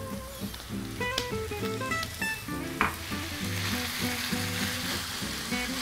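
Ground pork fries with garlic and onion in a pan, crackling and spattering loudly with a busy popping sizzle and occasional stirring knocks, close and continuous without speech.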